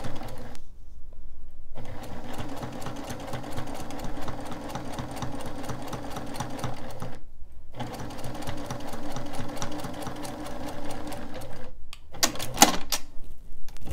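A sewing machine runs steadily as it stitches fabric for a children's rag quilt, its fast, even whirring broken by two brief pauses and a short stop near the end.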